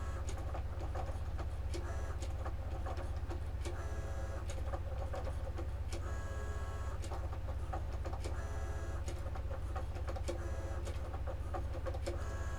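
A Cricut Joy 2 cutting machine works through small cuts, steady rapid ticking and whirring motor bursts over a constant low hum, close and moderately quiet, with no talking.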